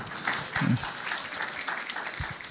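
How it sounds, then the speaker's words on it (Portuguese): A church congregation claps in brief, moderately loud applause that thins out quickly. "Pode aplaudir"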